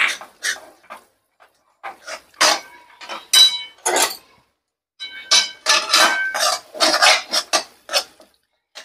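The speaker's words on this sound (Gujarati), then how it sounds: "હવે 1-2 સેકન્ડ માટે આવી રીતે હલાવી લેવું." Mung bean sheero with cardamom powder being stirred in a pan, heard as irregular scraping and clinking strokes of a spoon against metal, in short bursts with brief pauses, fairly close.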